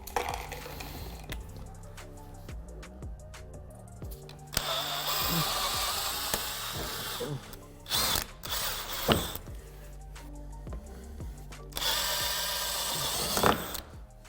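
A drill bit bores out a spinning rivet on a C7 Corvette undertray, giving bursts of high-pitched whirring and grinding separated by quieter gaps with ratcheting mechanical clicks, close and fairly loud.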